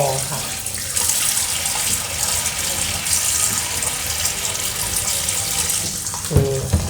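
New sticky rice is washed in water, with a steady splashing, running-water wash and sloshing close by, ending in a few louder knocks and splashes.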